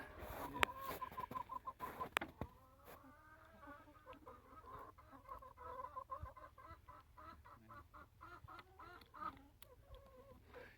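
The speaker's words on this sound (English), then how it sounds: "Hello, hens." Hens clucking and murmuring in a temporary chicken barn, a steady overlapping chorus of fowl calls at close range with a few sharp louder squawks early on, no talking.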